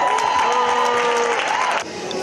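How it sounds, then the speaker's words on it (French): A crowd cheers and applauds for women welders, sandblasters, body-shop workers and electricians in Togo, a dense steady roar with sustained shouting voices that drops off sharply near the end. "accueillies par des acclamations."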